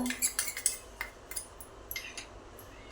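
A spoon clinks and scrapes against a bowl while spices are mixed into buttered corn for chaat, with a quick run of light metallic taps early on, then sparser clicks, close and fairly quiet.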